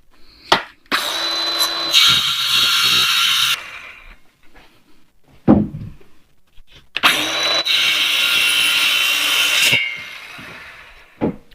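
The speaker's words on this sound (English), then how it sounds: "Circular saw." A circular saw cuts in a shed with a workpiece clamped down on a welding table. Two long, loud cutting passes run close by, each with a high whine, set off by brief start-up and spin-down bursts.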